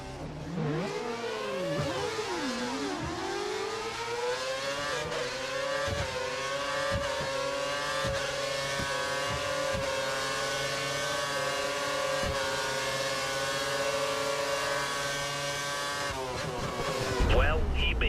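An F1 2013 video game race car engine howls through an overtake, its pitch sweeping up and down with gear changes before holding a steady, loud, high scream under close, continuous running.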